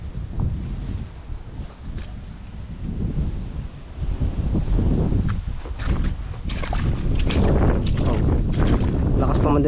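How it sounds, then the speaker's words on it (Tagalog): Strong wind roars and buffets the microphone in a steady low rumble that swells louder toward the end, with no one talking. "lakas pa man din ang hangin"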